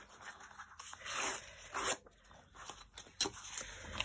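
Scissors cutting through a paper envelope for a vintage garden journal pocket, giving a few soft crisp snips and a rustle of paper, close and quiet, with one sharper snip near the end.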